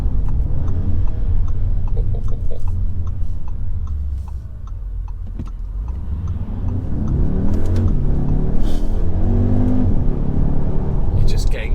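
A 2019 Audi SQ2 300 bhp quattro sports SUV's engine rises in pitch as it accelerates in traffic, loud and close from inside the cabin, with a steady ticking and someone talking over it.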